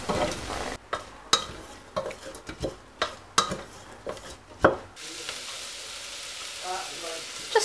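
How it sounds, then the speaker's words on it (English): Fennel seeds go into melted butter in a pan for an aloo gobi with dal: a run of sharp clacks and scrapes from stirring, then a soft, steady sizzle settles in. "Now I'm gonna add just a little bit of fennel seeds."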